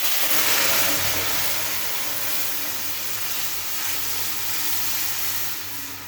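Masoor lentil dal is poured into a pan of frying onions. A loud, steady sizzle and hiss carries on for several seconds with no talk.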